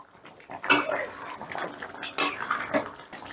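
Chicken is stirred in a pan, with two sharp metallic clanks of a spoon against the pan amid softer scraping and shuffling, close and fairly quiet between the knocks.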